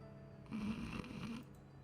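One drawn-out, rumbling snore from someone dozing while leaning against a door frame, low and soft with no talk over it.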